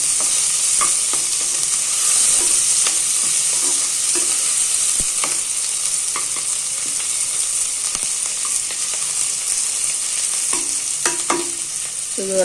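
Chopped ingredients sautéing in a little oil in a pan, a continuous close hiss and sizzle with scattered scraping stirs and soft clinks throughout.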